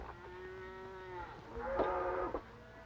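Cattle moo repeatedly, a long low call followed by a louder, rising bellow, fairly close with no talking.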